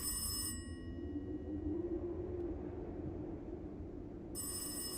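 A telephone rings in bursts at the start and again near the end, separated by a low rumbling room hum, with no talk.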